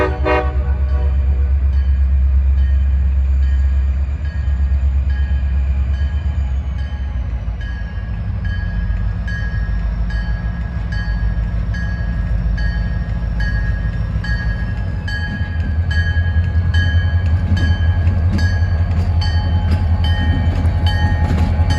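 A CSX freight train with a caboose rolls past close by, a loud steady rumble of wheels and cars with clicking rail joints and a sustained horn tone riding over the passage.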